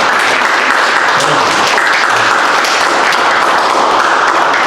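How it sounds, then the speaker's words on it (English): A loud, sustained round of applause fills an art event hall, many hands clapping densely and evenly throughout. "I think he deserves a round of applause"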